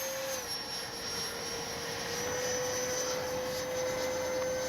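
A Freewing 90mm F-4 Phantom II RC jet with its gear down flies past, its electric ducted fan giving a steady, loud whine with a faint high tone that shifts slightly, and no talking.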